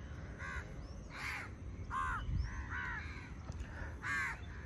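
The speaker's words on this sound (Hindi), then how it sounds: "आप ज़रा पक्षियों की और मुर्गों की आवाज़ें और भी कोयल की आवाज़ें सुनना।" Crows cawing on a Goa morning, several harsh repeated calls spaced about a second apart at moderate distance over a soft outdoor background hum.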